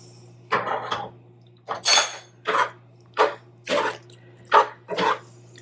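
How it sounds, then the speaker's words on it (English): A spoon works through a thick milk sauce for creamed peas and potatoes in a pot, in about seven separate wet, scraping strokes with short pauses between them, over a steady low hum. "I'm going to add a little milk, about a tablespoon at a time"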